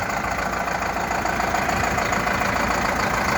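A new 2021 Zetor Proxima CL110 tractor engine idles nearby with a steady, even rumble and no voices over it.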